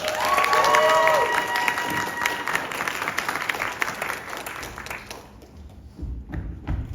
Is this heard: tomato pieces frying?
no